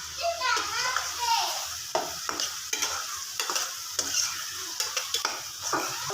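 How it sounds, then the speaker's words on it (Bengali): Onion and shrimp frying together in a pan with a bay leaf, a steady loud sizzle broken by repeated scraping stirs, while children's voices chatter faintly in the background. "পেঁয়াজ আর চিংড়ি মাছ একসাথে আমি একটু লাল লাল করে ভেজে নিব।"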